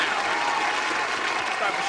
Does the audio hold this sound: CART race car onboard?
no